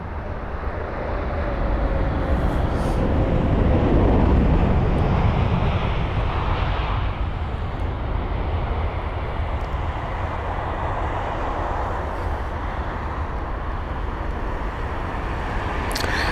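Boeing 787-10 Dreamliner, registered in May 2020, at London Heathrow, heard as a loud, steady broadband jet roar that swells in the first few seconds and then holds at a constant level, with no talking over it.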